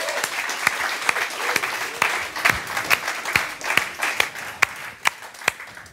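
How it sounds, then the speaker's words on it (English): A live audience at a late-night show on new media culture claps for a speaker, a dense crackle of applause with some louder, more regular claps standing out, sustained at moderate loudness. "Andreas Dittes, please, a round of applause."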